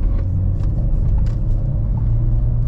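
Low, steady engine and road rumble from a small car overtaking on the road, a constant drone with little audible rise in revs.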